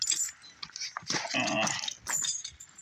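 A dog whimpers and growls softly while chewing on something near a 1972 Ford Mustang fastback in a garage, with short bursts of whining and chewing noises, fairly quiet, no talk.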